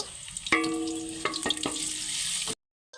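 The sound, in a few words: chopped onions frying in hot oil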